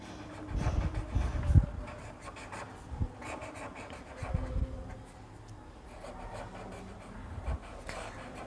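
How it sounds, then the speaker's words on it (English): A pen draws a line on paper while working through a class 8 geometry problem on quadrilateral angles. A few close, soft scratchy strokes come in short bursts with quiet pauses between them, and no one speaks. "So let me draw a line."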